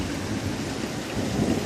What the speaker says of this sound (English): This is easily the craziest storm we've had all year.